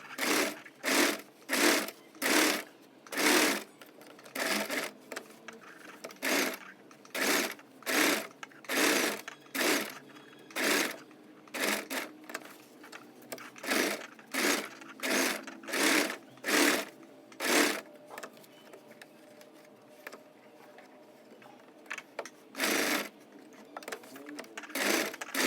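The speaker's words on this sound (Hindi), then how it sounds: "अब हम मशीन में जाके इस तरह से पूरे कपड़े को इस तरह फोल्ड करते हुए इस पूरे नेक में सिलाई लगा लेंगे" A sewing machine stitches the boat neck of a kurti, running in many short, loud, close bursts of rapid whirring separated by brief pauses as the fabric is folded and repositioned, with no talk.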